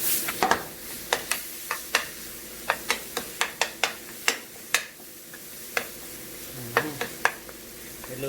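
Eggplant bharta with spices cooks slowly on a low flame: a faint sizzle runs underneath while a utensil stirs, giving sharp, irregular clicks and taps against the pan, close and fairly quiet.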